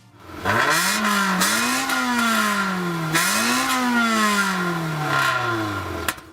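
A Honda Integra Type-R engine revs up and down repeatedly, pitch climbing and falling in several loud, close surges, with no talk.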